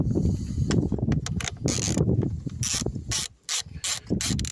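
Rapid metallic ratcheting clicks from a wrench tightening a Peugeot 5008 battery terminal, coming in quick bursts with short pauses, close and fairly loud.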